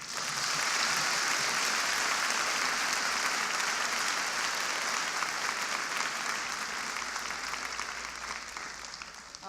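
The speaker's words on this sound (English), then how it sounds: "One more round of applause for Michael Neidorff." Sustained applause from a large conference audience honoring Michael Neidorff at the National Urban League address in St. Louis, a dense, steady roar of clapping that fades slightly toward the end.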